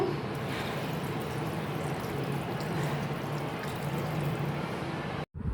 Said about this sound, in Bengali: সিদ্ধর জন্য পানি দিয়ে দেব